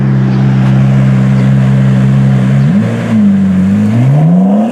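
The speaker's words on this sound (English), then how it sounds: "I'm sitting in a stoplight in a Ferrari Challenge car" A Ferrari Challenge race car idles at a street stoplight with a loud, deep engine drone, then revs and blips up and down. The engine is close and dominant, and no one talks.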